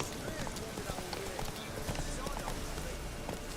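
Horse hooves of Roach in The Witcher 3 clop steadily at a run, mixed into dense game ambience with a voice talking over them.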